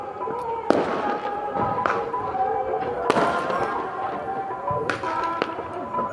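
Diwali firecrackers go off at night in a village, a few sharp cracking bangs spaced a second or two apart over a busy background, with people talking nearby.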